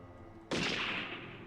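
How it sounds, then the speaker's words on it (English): One dry gunshot sound effect from the Higurashi When They Cry visual novel game rings out after near silence, sharp at the onset, then tails off in a lingering reverberant decay at moderate volume. "Bang! Bang! I heard a dry sound like a firecracker going off, coming from the shrine grounds."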